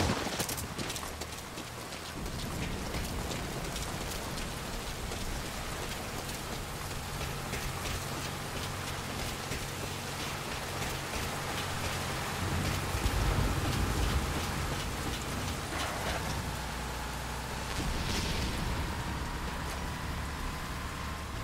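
Steady rain in the video game Metal Gear Solid V: Ground Zeroes patters down continuously, with a brief heavier rumble midway; no voices, just the constant wash of rainfall.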